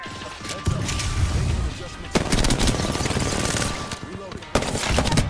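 Dense, loud gunfire from Apex Legends Season 17's Wall Run limited-time mode: overlapping rapid bursts and single shots crackling almost nonstop, with sharp impacts cutting in every couple of seconds.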